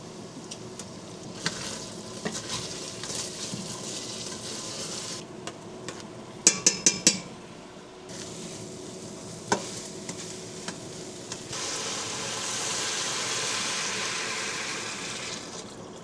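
Onions, carrots and potatoes fry softly in oil in a home kitchen, with a low steady sizzle, a few sharp clinks and scrapes of stirring, and a rising hiss near the end.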